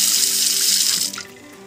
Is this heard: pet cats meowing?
no